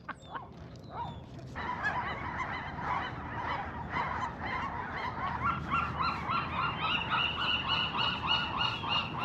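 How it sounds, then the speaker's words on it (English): A dense colony of Western Gulls calls on Alcatraz Island, with overlapping harsh, honking cries that rise after a quieter start and continue loudly and steadily, fairly close, with no talking. "That's them there, the Western Gulls."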